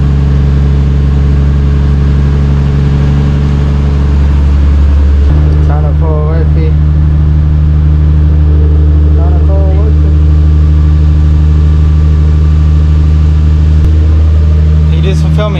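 A Nissan Skyline R32 GT-R engine with a new exhaust idles loudly with a deep, steady rumble, while a voice speaks briefly over it in the middle.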